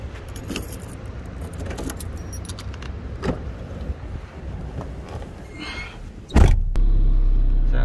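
A car being started and driven: keys jangle and rattle over a low engine idle, then the engine catches with a sharp burst and settles into a louder, steady hum close by.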